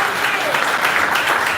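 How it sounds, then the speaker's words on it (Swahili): A church congregation breaks into steady, dense clapping for the Lord, many hands applauding together at close range throughout the short moment. "Pigie Bwana makofi."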